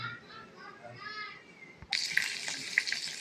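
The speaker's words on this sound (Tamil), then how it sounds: "நான் கடுகு, உளுத்தம் பருப்பும் இஞ்சி எல்லாம் போட்டு தாளிச்சிருக்கேன்" Mustard seeds, urad dal and ginger hit hot coconut oil with a sudden, crackling sizzle and scattered pops that carry on steadily. Faint voices come before it, in a quiet kitchen.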